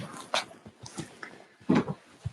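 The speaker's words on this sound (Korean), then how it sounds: "더 크게 짖어 대답해야지" A dog gives a few short, close yips and barks, with a louder burst near the end, over light background noise.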